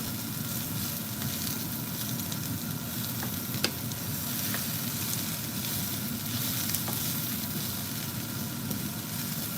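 Onions fry in oil in a pan with a steady, close sizzle that holds at an even level throughout, with a few faint ticks and no voices.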